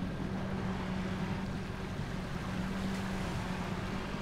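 A submarine moves underwater in the video game GTA V, giving a steady low rumbling wash with a faint hum, constant and unbroken throughout.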